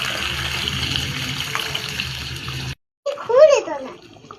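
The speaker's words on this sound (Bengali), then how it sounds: "এখন দিয়ে দেবো পরিমাণ মতো জল।" Water poured into a cooking pot over sautéed (kosha) chicken curry, a steady broadband gush lasting a few seconds before a short pause, followed by a voice nearby.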